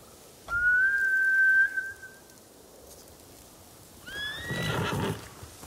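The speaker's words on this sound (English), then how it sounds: "bastards scared off the horses." Samurai horses in the video game Ghost of Tsushima neigh, one long clear whinny up front, then after a pause a second whinny mixed with snorting and hoof noise, both loud and close with no talking.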